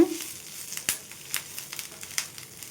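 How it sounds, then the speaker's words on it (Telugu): Curry leaves fry in hot oil in a pan while being stirred until crisp, giving a soft, steady crackling sizzle with a few sharper pops and scrapes, close and alone without talk. "ఈ మొత్తాన్ని కూడా మంచిగా క్రిస్పీగా వచ్చేంత వరకు వేయించుకోవాలండి ఈ విధంగా కలుపుకుంటూ"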